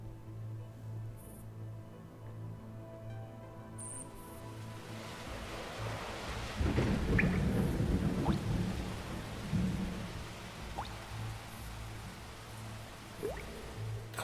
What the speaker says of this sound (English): Cold rain.